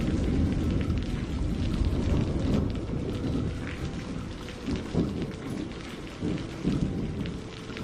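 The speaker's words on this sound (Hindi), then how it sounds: "बारिश अब और भी तेज होती जा रही थी।" Steady heavy rain pours down with low rumbles of thunder rolling underneath, no voices.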